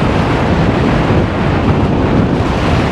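A strong evening wind gusts across the Black Sea shore at Anapa during a storm, with crashing surf mixed into a loud, dense, continuous roar of wind noise.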